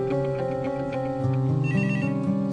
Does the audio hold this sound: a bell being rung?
no